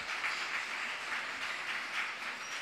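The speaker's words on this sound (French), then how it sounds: "Applaudissons." An award ceremony audience applauds in a steady, dense wash of clapping, fairly faint and distant-sounding, continuing evenly throughout without voices.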